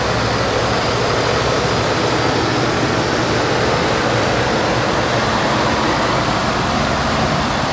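A 2015 Ford F-150 XL SuperCrew with a 5.0-liter V8 idles steadily, a close, continuous low engine rumble with an even throb and no talk over it.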